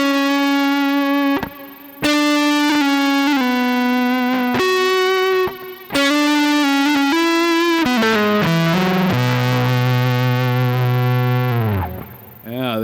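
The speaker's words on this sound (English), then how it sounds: "Let's hear it with distorted lead." Electric guitar playing a distorted lead line with a modulation effect, loud sustained notes with a few short gaps, ending in a long held, gliding note.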